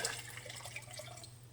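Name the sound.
water poured into jar of pickles for brine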